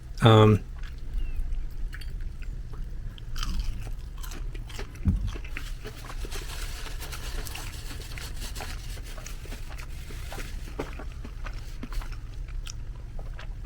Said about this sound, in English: The crunch of the Walmart beats the Gorton's